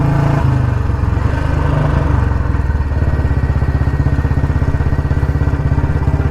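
An old-model Royal Enfield Bullet Electra 350 engine running close by, a loud, steady thumping putter that settles into a fast, even rhythm after a brief rev change.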